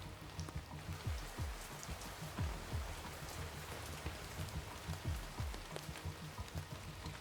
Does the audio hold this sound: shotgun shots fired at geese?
no